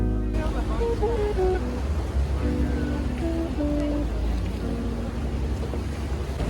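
A gondola's engine hums steadily over lapping water in Venice, a continuous low drone with faint tonal whines drifting in and out.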